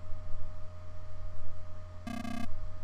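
A robot beeps in the Energy Breaker video game: one short, bright electronic tone with a steady pitch and harmonics, lasting under half a second over a low background hum.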